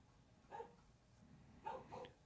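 A dog gives two quick barks, one short yip and then a double bark a moment later, heard faintly at a distance over low background noise.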